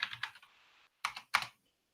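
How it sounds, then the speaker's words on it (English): A few quick keystrokes clatter on a keyboard, a short flurry followed by two isolated clicks after a brief pause, close and fairly quiet. "Donna, we don't love the sound of you typing, but Dom, you're on mute."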